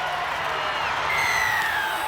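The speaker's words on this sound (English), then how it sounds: "Listen to the crowd." A rugby league crowd roars through a Cronulla-Sutherland Sharks versus New Zealand Warriors match as a steady, distant wash of cheering, with a faint whistle tone sliding through it.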